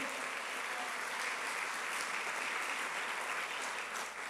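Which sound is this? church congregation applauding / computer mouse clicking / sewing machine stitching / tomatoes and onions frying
church congregation applauding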